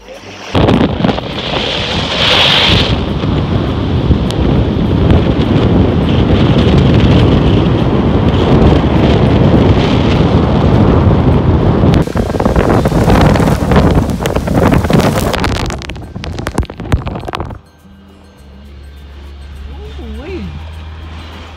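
Heavy Florida rain pours down on a moving car as a loud, continuous roar and hiss with drumming on the body. It surges partway through, then cuts to a quieter interior.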